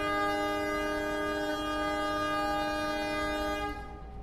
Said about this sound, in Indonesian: Sekarang kereta Logawa udah berangkat lagi dari stasiun Probolinggo